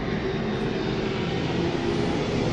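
A steady propeller airplane drones overhead, a constant broad engine roar filling the whole stretch without fading.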